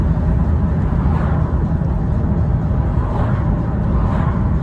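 A 315 BHP Vauxhall Astra VXR engine heard from inside the car, a steady loud low drone that holds through gear shifts with no voices.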